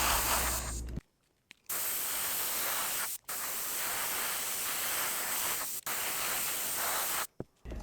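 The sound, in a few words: spray painting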